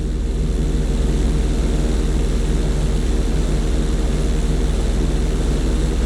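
A propeller plane's engine drones steadily during barrel rolls in Grand Theft Auto 5, a loud, unbroken hum holding for about six seconds with no talking.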